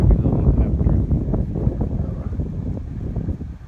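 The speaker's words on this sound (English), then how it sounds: "Yeah, it's windy down here," Strong wind buffets the microphone on a farm with a pond dam and pasture, a steady broadband rumble that swells and dips continuously from start to finish with no speech.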